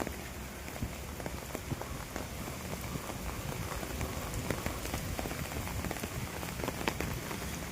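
Heavy cyclone rain pours down steadily with strong wind, a thick continuous hiss with scattered sharper drop impacts, no voices.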